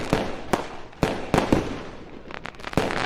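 Fireworks from a stream playing in the background: a string of sharp pops and crackling bursts at irregular intervals, fairly loud, with a cluster of smaller crackles near the end and no talk.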